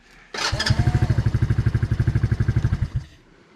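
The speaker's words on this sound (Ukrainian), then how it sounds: "ви висмикнете оцю чеку, і квадроцикл автоматично заглохне" A children's Forte Orix quad bike engine chugs in a fast, even idle pulse for a few seconds, then cuts out abruptly as the kill-switch pin is pulled, leaving near silence.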